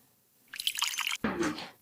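Water mixed with flavouring is poured onto colour rice, two short splashing pours close by, the second a bit heavier, with no talk.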